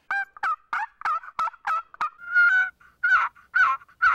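A wooden box call scraped to imitate a wild turkey gives a close, loud series of about a dozen raspy yelps in a steady rhythm, with one longer drawn-out note midway and no other sound.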